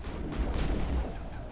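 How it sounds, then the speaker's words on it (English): Colonists fire at the player in Mass Effect. A volley of booming, close gunshots rolls through the moment at steady loudness. "The colonists are shooting at me."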